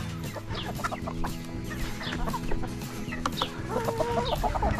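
Chickens cluck steadily in a busy barnyard with hens and roosters, overlapping short calls near and far over a constant low background hum.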